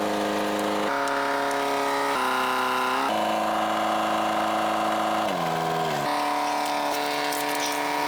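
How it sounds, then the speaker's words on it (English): A forklift lifts a heavy cylinder in a glassblowing studio, making a loud, steady mechanical whine that holds level and then steps abruptly up and down in pitch several times, with no talking. "we're going to use this forklift to lift it up and place it on the ground."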